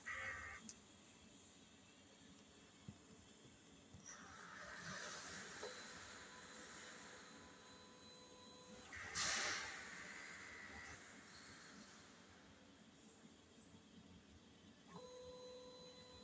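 An inkjet printer runs its head-cleaning cycle, a whirring, hissing mechanical run in several stretches with a brief louder burst midway, fairly quiet and with no talking.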